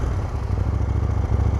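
A 2021 KTM 890 Duke R motorcycle engine running on its stock exhaust, a steady, loud, close-up low rumble with an even, throbbing pulse and no talk over it.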